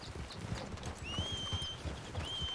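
Horse hooves clip-clop at a steady walking pace, a regular series of low knocks at middle distance, with thin bird whistles passing overhead.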